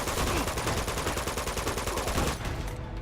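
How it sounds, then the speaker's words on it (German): Rapid automatic gunfire in the video game Uncharted 2, loud and sustained in dense repeated bursts for nearly three seconds before easing off at the end. "ich schieße mal wieder blind in der Gegend rum"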